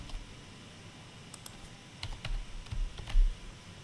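Sparse keystrokes click on a computer keyboard as code is typed to solve a LeetCode problem, a few isolated taps followed by a denser, louder cluster of close clicks with no talking.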